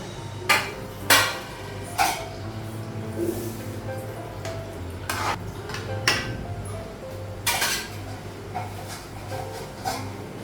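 Metal cookware and a pot lid clank in a home kitchen while fish cooks alongside ridge gourd, sharp separate knocks and clinks every second or so over a low steady hiss, with a voice speaking quietly in between.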